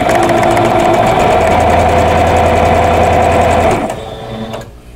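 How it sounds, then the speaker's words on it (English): A sewing machine runs fast and steady as quilt block squares are stitched into pairs with quarter-inch seams, a close mechanical whir that stops abruptly near the end, leaving a softer hum. "So we're just going to sew those into pairs."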